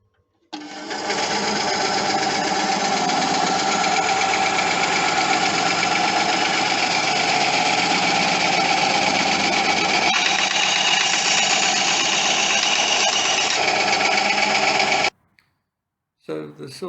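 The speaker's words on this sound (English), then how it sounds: "So the saw seems to be operating as would be expected." A Nu-Tool HBS9-4 230mm two-wheeled bandsaw starts up and runs with a steady, loud mechanical whir and hum for about fourteen seconds, then is switched off and winds down abruptly.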